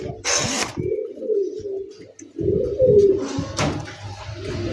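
Racing pigeons with red eyes cooing close by in soft throaty rolling coos, broken by a couple of sharp rustling flutters of wings.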